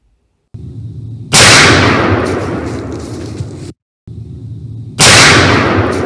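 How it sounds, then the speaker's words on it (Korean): Two loud, sharp gunshot blasts from an S&W M500 revolver, each preceded by a brief low rumble and followed by a decaying roar, close and isolated with silence between. "제가 모델건 모습에 실제 M500의 총성을 입혀서 마치 발사하는 듯한 페이크 영상을 만들어"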